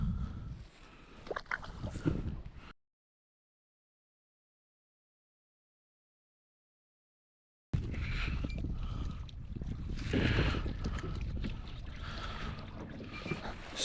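Wind buffets the microphone on a lake during kayak fishing, rumbling gusts with water and boat noise before and after a long silent gap.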